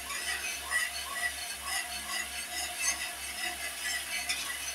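Mango ice candy mixture being stirred in a container, a faint, steady swishing and scraping with a soft rhythmic low pulse beneath it.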